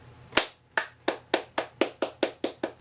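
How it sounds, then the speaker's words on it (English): Slow hand clapping from one person during a movie review, about nine claps spaced evenly and gradually quickening, close and clear with no talk. "that wasn't the ironic slow clap. That was actually me getting really giddy"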